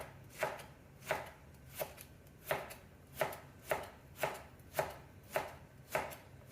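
A knife chops cabbage and vegetables on a board in an even rhythm of about eleven crisp, close strikes, with no talking.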